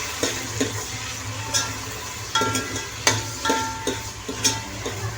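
Finely chopped tomatoes fry with garam masala in a pan for chicken Mughlai, giving a steady close sizzle broken by repeated spoon scrapes and clinks as they are stirred.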